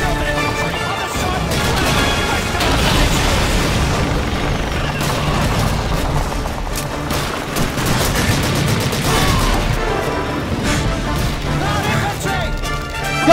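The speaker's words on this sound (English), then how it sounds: "Grenades! Watch out!" Heavy booms and explosions from grenades in the video game Call of Duty 2 roll through a dense battle of continuous gunfire, with voices shouting over the noise throughout.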